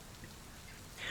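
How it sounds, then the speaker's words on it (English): Rain and wind rush in as a door opens onto Gangplank Crossing, a dense, steady wash of falling rain with no voices over it. "Opening up the door, rain and wind hitting you directly in the face."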